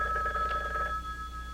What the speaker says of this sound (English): Will that be you again, Kate? On the phone, I mean